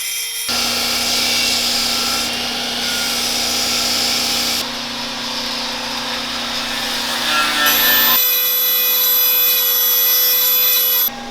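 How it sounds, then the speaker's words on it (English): A Dremel rotary tool grinds and cleans welds on a forged Damascus ulu knife, giving a loud, continuous high-pitched whine with abrupt shifts in pitch as contact with the steel changes. "It's not so bad if you have a Dremel."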